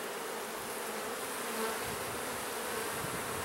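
Honeybees hum steadily in an open hive during a beekeeping inspection, a dense, close, continuous buzz with no talking.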